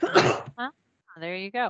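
A single short sneeze bursts out at the start, followed by talking in the clip.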